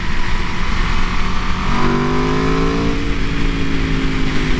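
A 2018 Aprilia RSV4 RR sport motorcycle's engine drones steadily under heavy road and wind noise, rising into a revving pitch sweep midway before settling again.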